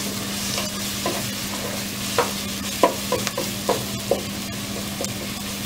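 Ginger garlic paste frying with softened, golden onions in a pan, with a steady sizzle under a series of sharp stirring scrapes and taps, close and fairly loud, with a low hum running beneath.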